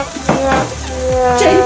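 Minced meat for keema sizzles and hisses in a hot pan, with a few stirring scrapes, close and steady throughout; a voice speaks briefly over the frying.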